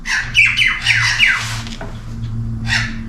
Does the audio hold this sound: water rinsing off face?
no